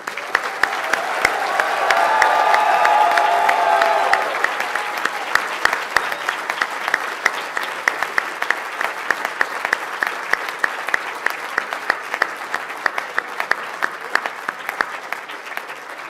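Sustained audience applause at a University of Liverpool School of Dentistry graduation ceremony, a dense swell of clapping that peaks in the first few seconds, then settles into steadier, thinner clapping throughout.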